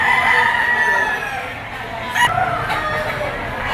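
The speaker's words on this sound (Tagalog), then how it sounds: "Laking manok din ito." Near, loud rooster crows stretch out and fade over the first seconds, followed by sharper clucks and another crow. The birds are gamefowl stags at a farm in Lipa, Batangas, with faint background noise throughout.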